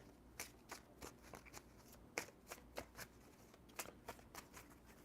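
A deck of cards is riffled and shuffled in a run of crisp, rapid flutters and snaps, close and clear over a quiet room with no voices.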